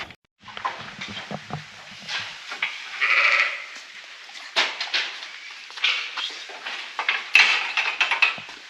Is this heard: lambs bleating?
yes